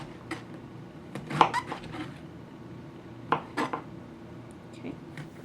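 Knife on a cutting board slicing eggplant, a few scattered clicks and taps of the blade against the board, moderately close, with no talk.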